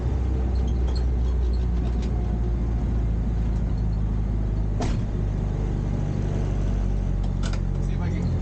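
Acura Integra engine running with the clutch in, a steady low rumble holding at one pitch with no clear rise or fall, close and fairly loud, with a couple of brief clicks.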